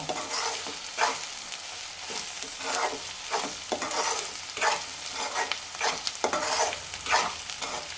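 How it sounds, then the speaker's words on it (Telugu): Ginger garlic paste frying in a pan for dhaba-style anda bhurji, a close, continuous sizzle with steady scraping strokes as it is stirred, no talking. "అల్లం వెల్లుల్లి పేస్ట్ వేగిందా లేదా చూసుకుందాం"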